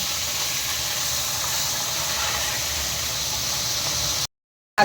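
Onions sizzle and fry in a hot pan at home, a steady close hiss filling nearly five seconds before cutting out briefly at the end.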